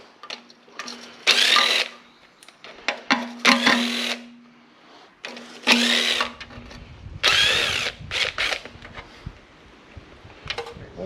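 A power tool whirs in repeated bursts while loosening oil pan bolts on a 1968 Ford Mustang, each burst about a second long with a steady hum between, close and loud, no talking.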